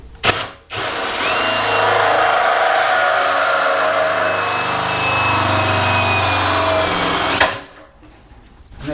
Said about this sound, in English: with not too much pressure, you need a little bit because you're in reverse, but not too much pressure, and medium speed, you can drill through